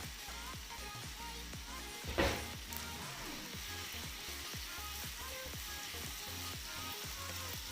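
Curry leaves dropped into hot oil while cooking a Malappuram-style clam roast, a brief louder burst of sizzling that settles into a steady crackling fry.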